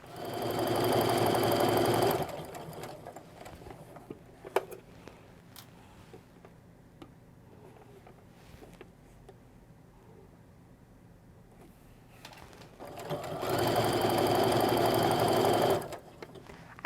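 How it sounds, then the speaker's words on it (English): A sewing machine stitches a straight quilt seam in two loud, steady whirring bursts at the start and end, with a quiet stretch of faint handling noise between them. "Just line up your corners and sew."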